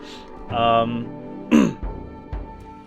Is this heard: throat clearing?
yes